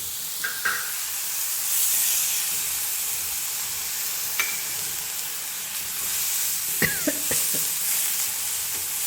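Dal sizzles and hisses in a hot pan with green chickpea leaves, a steady close frying crackle broken by a few sharp stirring clinks and scrapes.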